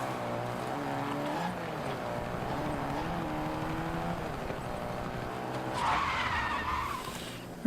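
A vehicle in the Warzone video game races along with shifting engine pitch and tire skidding, then roars and scrapes louder near the end as it goes off a cliff and crashes.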